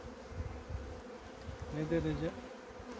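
Honeybees, a varroa-infested colony, buzzing around an open hive; a soft, steady hum sits low under outdoor noise, with a brief louder drone near the end as a voice speaks briefly.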